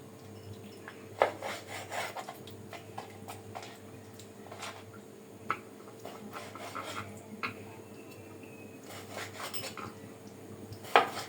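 A knife slices raw chicken into thin pieces for chicken fry, making soft, intermittent scraping and rubbing strokes with a few sharper taps on the board, quiet and close with no voices.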